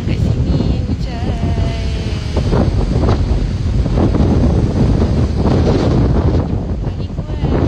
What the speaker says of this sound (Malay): Angin kuat.